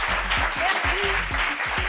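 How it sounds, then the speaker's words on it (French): Studio audience applause on a television set in La Réunion, a continuous wash of clapping beneath a rhythmic low thumping music beat, with a voice briefly heard. "Applaudissements."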